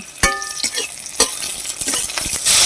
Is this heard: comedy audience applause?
no